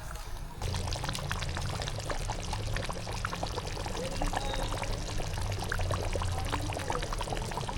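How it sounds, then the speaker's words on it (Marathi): Heated water is poured into a pot of Konkan-style chicken curry, making a loud, continuous close-up splashing pour that runs steadily for several seconds with no talking. "आपण गरम केलेलं पाणी त्यात आपण टाकून घेतलं का? त्याच्यात ऍड केलं."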